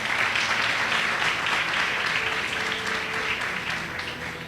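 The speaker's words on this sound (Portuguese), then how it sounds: "Antecipadamente já dei uma salva de palmas para a palavra de Deus." A church congregation at a missions congress gives sustained applause, a dense, even roar of clapping from many hands that stays loud and fades slightly near the end.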